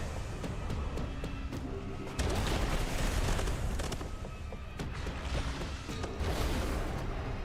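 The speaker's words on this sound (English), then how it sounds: "you ain't even finished exploding yet, and I'm causing the next explosion" Dense, continuous video game explosions and blasts pile up in a noisy, rumbling barrage, with sharp bursts overlapping throughout.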